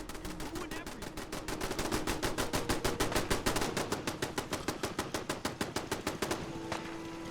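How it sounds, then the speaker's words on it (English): Rapid automatic gunfire from the video game Fallout 4, a long, loud, evenly spaced burst of shots that runs for several seconds before cutting off, with a faint hum underneath. "What were you shooting at?"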